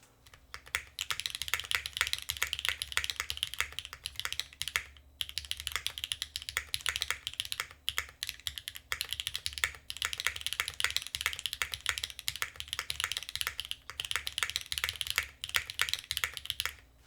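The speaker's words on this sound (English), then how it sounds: "this is really punching out the top end of what this keyboard sounds like." Fast, even typing on a TB-65F mechanical keyboard fitted with a top frame: a dense stream of crisp, close key clacks, fairly quiet, with a short pause partway through and no talking.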